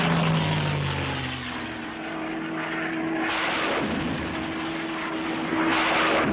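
A P-51 Mustang fighter-bomber drones past in flight, a steady, loud propeller-engine roar with a falling pitch early on and a smooth, sustained hum throughout.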